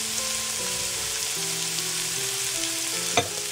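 Frozen peas sauté in a pan for celery pulao with a continuous hissing sizzle, steady and close, a single sharp utensil tap near the end, no voices.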